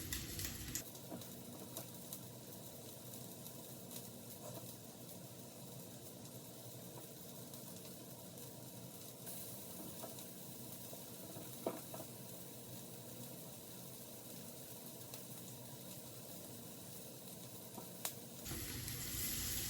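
Meatballs fry in a full pan, a steady, even sizzle that continues alone without a break for about twenty seconds, fairly soft and close.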